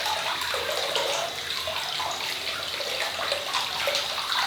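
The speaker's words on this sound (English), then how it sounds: "And then we'll get fresh hot water." Hot water gushes steadily from a tap into a sink during a wet shave, a constant broad hiss of running water held at an even level throughout, with no voices.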